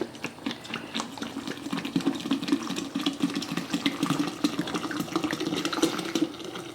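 White vinegar poured into a jar makes a steady liquid stream that gurgles and splashes continuously throughout, at moderate loudness with no talking.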